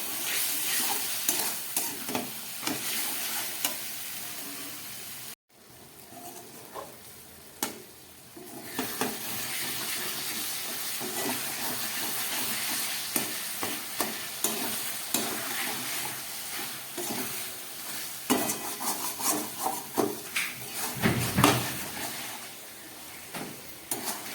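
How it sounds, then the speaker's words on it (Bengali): Mutton sautés in oil in a pan over a medium gas flame, a continuous sizzle broken by repeated scraping and stirring strokes, close and steady, with no one speaking. "এবার গ্যাসটাকে মিডিয়ামে করে আমি খুব ভালো করে এটাকে কষিয়ে নেব যতক্ষণ না পর্যন্ত মাংসের থেকে তেল বেরোচ্ছে"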